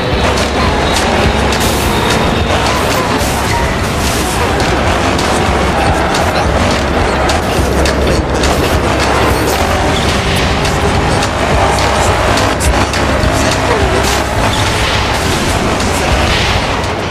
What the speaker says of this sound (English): This is an epic highway race.